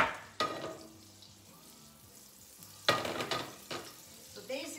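Olive oil and a little butter hitting a heated pan, crackling and sizzling in short bursts between quieter gaps, close and fairly faint.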